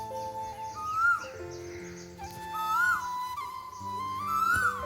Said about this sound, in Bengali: ছাদে এসে শুনতে পেলাম অপূর্ব